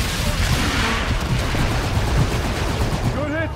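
A called-in fire strike in Call of Duty: Infinite Warfare: dense rapid rounds and booming impacts rumble continuously, loud and close, amid radio chatter and battlefield noise.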